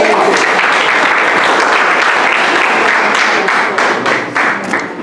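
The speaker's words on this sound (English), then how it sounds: "Come on, people, give them an applause" A crowd at a schools debate competition claps loudly and continuously, a dense wash of applause that thins slightly toward the end.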